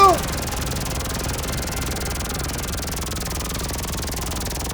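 A helicopter in GTA 5 gives a steady rotor drone with a pulsing whir, continuous and fairly loud in the background.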